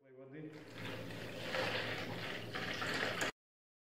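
Two liters of warm water poured for homemade country-style yeast bread, a steady splashing stream rising in fill, close and clear, stopping abruptly.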